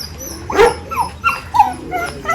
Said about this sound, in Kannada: ಮೋಸ್ಟ್ಲಿ ಅವ್ರ ಮನೆ ನಾಯಿ ಇರ್ಬೇಕದು